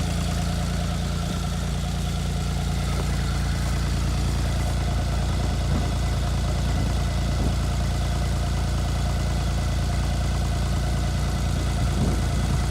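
A 2004 Arctic Cat T660 Turbo four-stroke touring snowmobile engine idles steadily, a constant mid-to-low mechanical hum with slight vibration and no voices.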